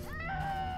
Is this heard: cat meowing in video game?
yes